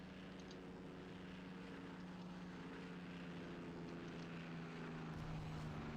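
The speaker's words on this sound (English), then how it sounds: "There's a lot of aircraft over here." Propeller aircraft droning steadily overhead in the WWII Online game, a continuous low engine hum with no breaks across the whole stretch.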